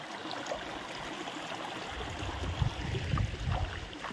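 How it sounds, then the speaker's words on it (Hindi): Water flowing steadily into a pit after being diverted, a continuous low rushing and trickling outdoors, growing a bit stronger and more turbulent in the second half, with no talk. "ये साइड कितना ज़्यादा पानी चल रहा है"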